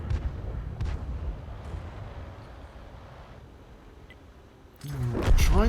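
Artillery rounds fired from a T82 HMC in a tank video game, with muffled booms early on, a quieter stretch, then a loud close blast near the end.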